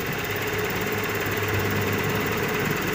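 A motorcycle engine runs close and loud at a steady, throttled pitch with a dense, even drone and no clear rise or fall in revs. It is being tuned for air-fuel ratio via the throttle position sensor. No one speaks.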